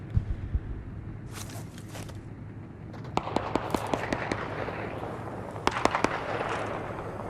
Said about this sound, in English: What's that guy shooting at?